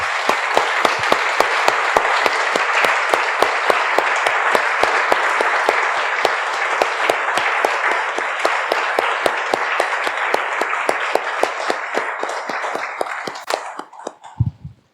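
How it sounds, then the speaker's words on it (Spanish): A church congregation applauds after a prayer, loud sustained clapping with one sharp rhythmic clap standing out at a steady beat, continuing for about thirteen seconds before fading out with a few last claps. "Damos un aplauso, hermanos."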